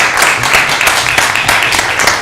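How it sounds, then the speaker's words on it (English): An audience in a hearing room gives a round of applause for a panel of speakers, a brief, loud burst of close clapping with steady rhythmic patter. "One round of applause, please,"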